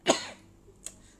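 A single sharp cough up close, followed by a faint short throat sound a moment later, otherwise quiet.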